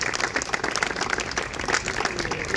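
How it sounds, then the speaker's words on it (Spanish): An audience claps during a presentation event for the Santísimo Cristo de La Laguna festivities, a continuous, fairly close round of applause that stays even throughout. "pido otro nuevo aplauso para la doctora por tan magnífico trabajo"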